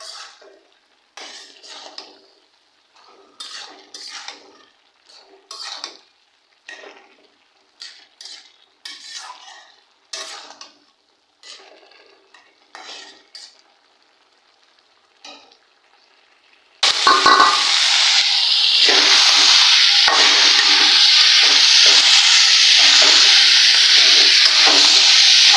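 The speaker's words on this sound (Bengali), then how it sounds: "কষাইতে আছি।" Ground shrimp curry with radish being sautéed in a pan: scattered scraping and stirring clatter of utensils at first, then a loud, continuous sizzle of frying that fills the rest.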